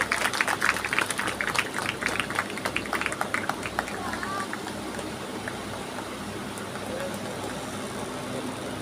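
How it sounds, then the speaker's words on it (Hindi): Audience at a village stage welcoming event in Pendra, Fingeshwar, Chhattisgarh, clapping in a dense burst that thins out after a few seconds into steady crowd murmur and background noise. "कृपया ताली से स्वागत कीजिएगा।"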